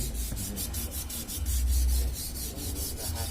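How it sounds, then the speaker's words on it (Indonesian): Sandpaper is rubbed back and forth over the core of an AAAC aluminium conductor while preparing a dead-end joint, giving close, loud, rhythmic abrasive strokes in quick succession throughout. "Ukuran sama, kita amplas core terlebih dahulu."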